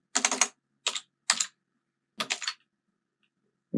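Typing on a computer keyboard, short close bursts of crisp key clicks separated by silent gaps, five quick clusters in a quiet room.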